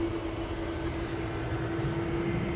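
A Ryanair airliner passes at Manchester Airport, a steady, fairly loud engine roar with a constant hum, heard alone without talking.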